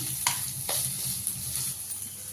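Onions and ginger pieces sizzle steadily in a hot pan, a dense close hiss broken by a couple of sharp spoon scrapes or clinks early on.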